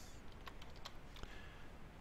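Keys are pressed on a computer keyboard, a short run of faint, quick plastic clicks with one sharper tap near the end, quiet and without speech.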